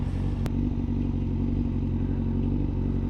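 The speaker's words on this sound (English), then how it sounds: "Oh, there's a bike pulling up now, I think." A motorcycle rolls up nearby, its engine a steady, loud low rumble with a sharp clatter early on, idling on without any talk.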